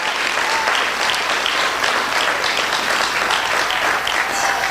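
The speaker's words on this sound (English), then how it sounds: "Could you all give my pastor a hand clap in her absence right now?" Audience at a talent show fundraiser applauding and clapping hands, a dense, steady roar of clapping that holds evenly throughout with no break.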